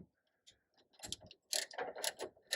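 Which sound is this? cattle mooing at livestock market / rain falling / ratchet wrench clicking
ratchet wrench clicking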